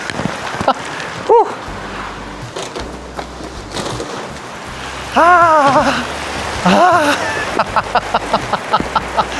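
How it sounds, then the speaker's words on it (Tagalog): Steady rain patters throughout, with a few brief high whistling or squeaking sounds and intermittent noises over it; fairly loud and close. "Nako, lakas ng ulan, grabe."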